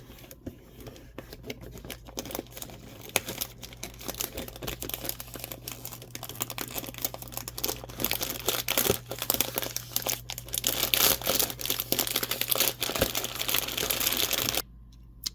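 A big Christmas advent calendar is opened on day 11, with close, soft paper and cardboard crinkling and rustling that grows busier and louder as it is pulled open, ending in a brief silence.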